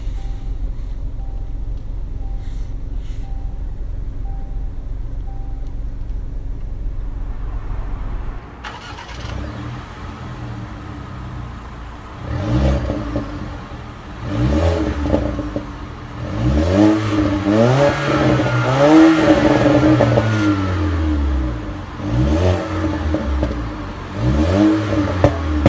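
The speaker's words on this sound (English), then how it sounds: "To start the engine, push your foot down the brake" A low idle hum gives way to an engine cranking and catching, followed by repeated revs rising and falling over a rough, steady idle.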